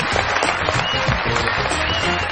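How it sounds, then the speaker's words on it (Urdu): Dense, steady applause from a studio audience at a Pakistani comedy talk show, welcoming a cricket all-rounder onto the stage, filling the whole moment loud and close. "بہت ساری تالیوں میں ویلکم کیجیے گا"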